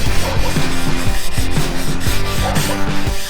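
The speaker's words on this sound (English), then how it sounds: "now I'm just gonna use some 150 grit sandpaper" Sanding the rusty rain gutters of a 1996 Ford E-350 Econoline van with a 150-grit sandpaper block, producing loud, close, rhythmic back-and-forth rasping strokes that repeat steadily with no talk.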